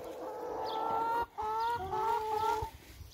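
Chickens cluck and murmur steadily while being fed grain in a backyard coop, several close birds calling in overlapping bursts with a brief pause midway.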